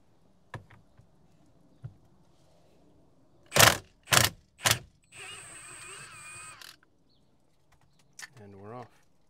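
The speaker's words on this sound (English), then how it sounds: "There's my impact wrench." An impact wrench works a steering wheel bolt on a Mercedes GLK350, firing three short, loud hammering bursts followed by a longer steady whir. The surroundings are otherwise quiet, with a brief voice near the end.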